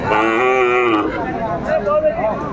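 A Sahiwal bull moos loudly at a cattle market, one long drawn-out low call followed by shorter, wavering calls, close by and dominant over background crowd noise.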